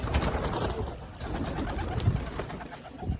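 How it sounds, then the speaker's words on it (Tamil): Pigeons cooing at a home loft, low soft coos under a steady noisy outdoor background, with a couple of brief louder coos standing out. "பாருங்கள், புறா எல்லாமே நல்லா ஜம்முன்னு பறந்து போவோம் ஃப்ரெண்ட்ஸ்."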